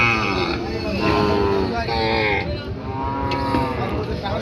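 A young two-toothed bull calf moos repeatedly in long, loud, close calls at a cattle market, with other cattle and people talking faintly in the background.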